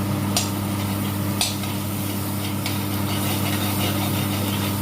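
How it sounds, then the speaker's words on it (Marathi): Butter melting in a kadhai for chicken gravy gives a steady, close hiss over a low hum, with a couple of faint clicks. "कढईमध्ये मी आता एक चमचा बटर टाकून घेणार आहे"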